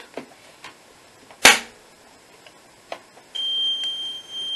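An Arkéon fire alarm system triggered during a relay module test: a sharp click snaps loudly, a few faint taps follow, then a steady high-pitched alarm tone begins and holds to the end.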